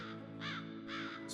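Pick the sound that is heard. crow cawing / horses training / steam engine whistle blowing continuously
crow cawing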